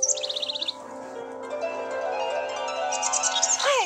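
Electronic toy birdsong chirps and trills from inside a box, a steady run of bright repeated tweets and warbles with a quick burst at the start and rising swoops near the end, fairly close.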